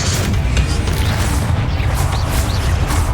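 Spell blasts from the Bombarda explosion in the Hogwarts Legacy video game, dense low booms and crashes rolling continuously at close range with no gaps, loud throughout.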